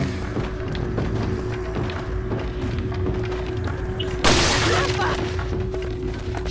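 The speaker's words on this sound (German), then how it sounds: "Schöner kritischer Schuss." Gunfire in the Resident Evil 4 video game, during the Separate Ways campaign, with one loud, sharp shot cracking out over a steady bed of game ambience and a voice talking.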